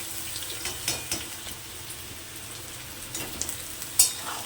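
Grated onion, chili and ginger sizzle in a pan alongside cooked potato for pasta, a steady close crackle with scattered stirring scrapes and small pops, no voices.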